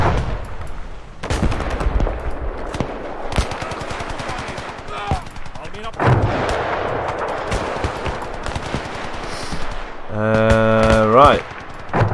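Battlefield combat in the video game Gates of Hell, set in Finland: dense rapid bursts of machine-gun fire and heavy artillery blasts, loud and continuous, ending with a rising mechanical whine.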